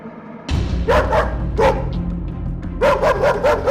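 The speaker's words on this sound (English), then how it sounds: "Hearing the dog's growls" A dog barks sharply several times in quick bursts over a low rumbling growl, close and loud.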